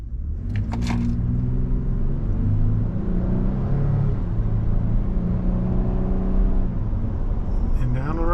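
A 2025 Nissan Frontier Pro-4x midsize pickup on all-terrain tires pulls away, its engine a steady low rumble rising slightly as it accelerates, with a few brief knocks at the start.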